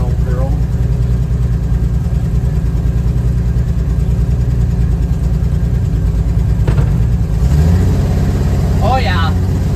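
A 1965 Ford Econoline's engine runs steadily at a loud, close idle with an even low drone throughout; a voice briefly speaks near the end.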